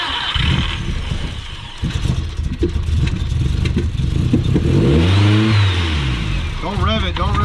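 A big turbocharged car engine cranks and fires up, then revs and settles into a rough idle, loud and close, with people talking nearby throughout.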